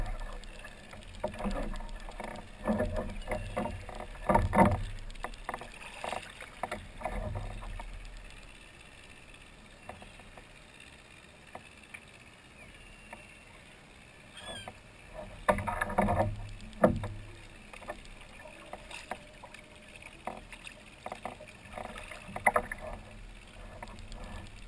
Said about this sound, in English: I paddle away from the other boats a bit more.